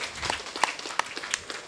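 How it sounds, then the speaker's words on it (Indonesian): An audience claps for children performing at an Islamic boarding school recitation contest, giving a short burst of scattered, uneven handclaps heard from a short distance. "Tepuk tangan buat anak-anak kita tercinta."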